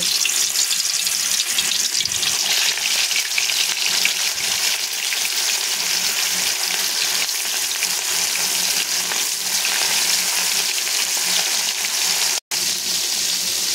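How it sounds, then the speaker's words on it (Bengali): Mutton pieces fry in hot oil, giving a loud, steady, dense sizzle that runs unbroken and up close, with no talking. "আমি সমস্ত মাংসগুলো দিয়ে আমি সুন্দর করে ভেজে নেব"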